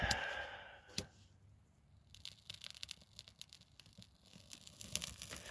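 Close crinkling and tearing of paper with a sharp knock while starting a wood stove, followed by irregular rustling and crackling handling sounds.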